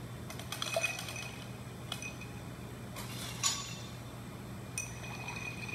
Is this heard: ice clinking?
yes